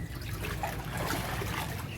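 Floodwater at a flooded school garden, a faint, steady trickle and gentle wash of moving water under a low rumble, with no distinct voices.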